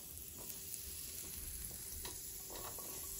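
Butter sizzles steadily on a tomato, basil and mozzarella panini grilling in a panini maker, a continuous close frying hiss with a few faint clicks and no talk.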